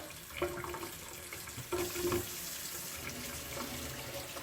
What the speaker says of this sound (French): J'ouvre l'eau, de l'eau claire.